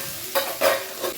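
Vegetables for a vegetable pulao fry in a pan with turmeric, giving a soft sizzle broken by three brief stirring scrapes, close and fairly quiet.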